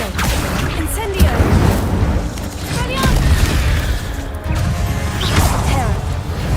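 An Incendio fire spell cast in Hogwarts Legacy, erupting in loud whooshing bursts and crashing impacts within a dense, chaotic combat soundscape, with a voice calling out over it.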